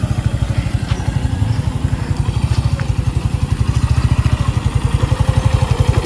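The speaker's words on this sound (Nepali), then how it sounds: "ल गाडी स्टार्ट गर पहिला अब गियर आन भयो" A motorcycle engine runs close by with a loud, rapid, even chugging pulse that holds steady throughout, without any voices.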